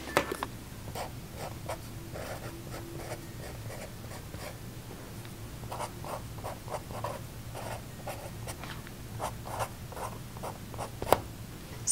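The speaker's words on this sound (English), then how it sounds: "So they write very nice, very thin, and the colors don't bleed." Fine liner pen scratching across paper in short repeated strokes, close and quiet, with brief pauses between marks.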